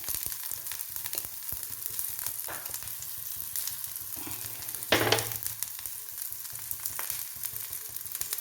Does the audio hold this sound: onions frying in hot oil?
yes